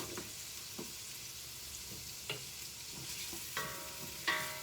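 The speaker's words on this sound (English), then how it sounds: "You can start to hear that sizzle." Garlic sizzles steadily while frying in a pan for chicken noodle soup, a constant crackling hiss broken by a few louder stirring scrapes, close and without talk.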